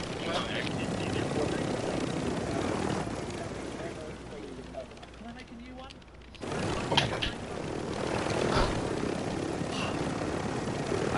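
Helicopter in the video game Warzone, a steady rotor and engine drone throughout that briefly thins midway and returns, with a person talking over it.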